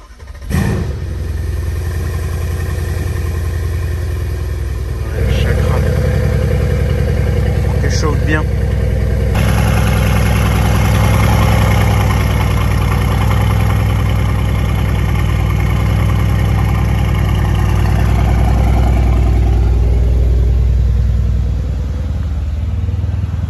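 Several car engines idle while warming up after being brought out of a lot, a loud, steady low rumble that swells slightly midway, with people talking over it.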